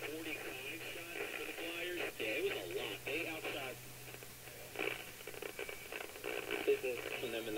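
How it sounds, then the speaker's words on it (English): A low steady AC hum runs beneath a tinny, crackly broadcast voice from a Zenith AM table radio speaker, the hum persisting throughout. "Okay, there is some AC hum on this."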